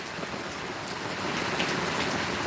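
Steady rain falls as an even, close, hissing patter that grows slightly denser toward the end. No one talks.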